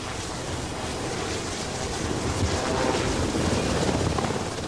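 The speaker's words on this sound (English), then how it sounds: "Once the helicopter is airborne" A Navy airborne early-warning helicopter flies with a steady, dense rotor and engine roar, heavily buffeted by wind across the microphone, constant and loud throughout with no pauses.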